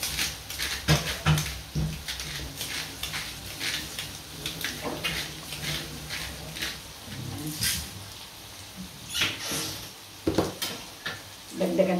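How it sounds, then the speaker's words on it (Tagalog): Onions sauté in a pan for chicken wings cooked with tomatoes, a continuous crackling sizzle broken by repeated scraping and clacking strokes as they are stirred, close and busy throughout. "Habang dinilisa po natin yung sibuyas."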